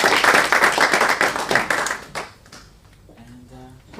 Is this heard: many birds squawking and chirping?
no